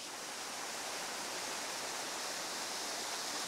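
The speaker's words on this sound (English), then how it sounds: "We've got a little waterfall here." A small waterfall pours with a steady, even rush of water, close and continuous with no pauses or other sounds.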